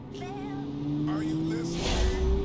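A 1980s fleet car accelerates, its engine note climbing steadily in pitch, with a voice speaking briefly over it and a rushing burst of noise near the end.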